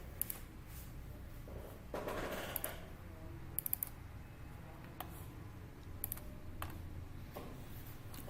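Typing on a computer keyboard while setting up a domain join, with sparse clicks and short bursts of keystrokes at close range over a faint background hum, no talking.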